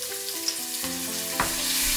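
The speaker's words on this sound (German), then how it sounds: "Spitzpaprika mit wenig heller Sojasauce anbraten." Pointed peppers fry with a splash of light soy sauce in a hot pan, a continuous sizzle broken by a few utensil scrapes and stirs.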